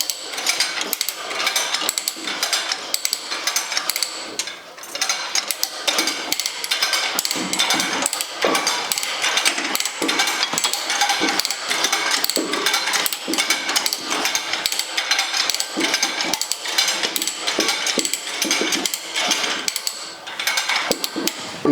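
Rapid metal-on-metal hammer blows drive a cold chisel during a tractor clutch repair on an IH 674, a dense, loud, steady string of sharp clanks running without pause.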